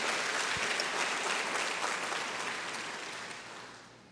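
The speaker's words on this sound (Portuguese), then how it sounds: "Aplaude Jesus mais uma vez." A church congregation applauds together, a dense, steady wash of clapping that fills the whole clip and slowly fades toward the end, with no one speaking over it.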